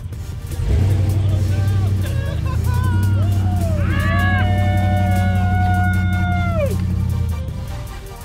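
A small electric motor of a modified Power Wheels ride-on toy car whines and rises in pitch, revving up and holding steady for a few seconds, with a low steady hum and people chatting nearby.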